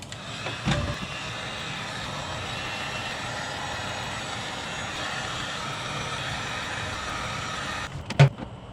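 A heat gun shrinks heat-shrink tubing over spliced LED turn signal wires on a Volkswagen Baja. It gives a steady, even blowing roar that holds for about seven seconds, with brief clicks at the start and end.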